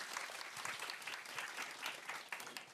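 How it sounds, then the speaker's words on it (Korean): A seated audience at a youth policy forum applauds steadily and evenly to welcome the next speaker, a dense wash of many hands heard from a distance with no voices over it. "박수로 맞아주세요."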